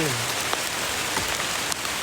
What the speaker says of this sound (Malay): Biar hujan tak apa.